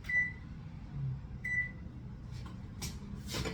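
An oven being set to 350 gives two short, clear electronic beeps about a second and a half apart, followed by faint rustling and clatter in a quiet kitchen.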